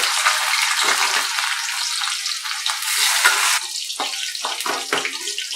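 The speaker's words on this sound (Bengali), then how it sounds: "কাঁচকলাটাও ভাজা হয়ে গেছে" Raw green banana pieces fry in hot oil for Bengali shukto, giving a steady, close, loud sizzle with crackling bursts throughout; no one speaks.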